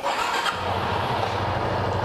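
Yamaha Lander X motorcycle engine running close by at a steady idle near 1500 RPM, a continuous loud rumble that holds an even pitch, with no clear revving burst.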